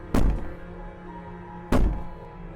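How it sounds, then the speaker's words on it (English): Two heavy thuds of banging on a door inside the video game Slay the Princess, spaced about a second and a half apart, each a loud low knock with a short ringing tail over a quiet hum. "Maybe the banging and wailing will stop if you just don't pay attention to it."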